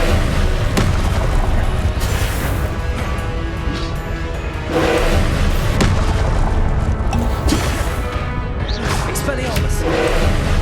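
Incendio fire spells fired in a Hogwarts Legacy duel, loud booms and whooshing bursts recurring among other spell impacts under constant game noise, with speech over the action.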